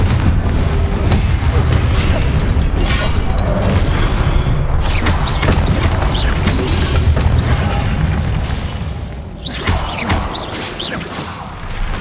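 Spell explosions and magical booms in Hogwarts Legacy gameplay, loud rumbling blasts and whooshes layered densely over one another, thinning slightly toward the end.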